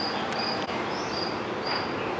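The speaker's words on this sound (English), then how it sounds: "Sorry about the loud crickets again. These guys are relentless." Loud crickets chirp steadily and relentlessly in a dense, unbroken chorus close by, a high shrill trill filling the whole stretch with no pauses and no voices.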